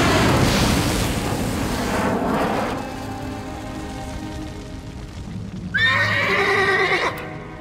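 A fire unicorn in a cartoon gives a loud whinny at the start, then a quieter stretch follows, and a second sharp, high neigh rises near the end.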